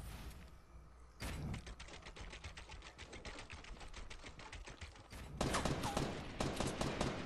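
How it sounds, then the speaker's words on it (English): Gunfire in the video game Fortnite: rapid bursts of sharp shots rattle on almost without a break, with a louder, denser volley near the end. "Yo, they're shooting at me."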